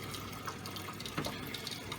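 Water flowing into a reverse osmosis unit during installation, a close, continuous splashing trickle with small gurgles and bubbling bursts, no voices.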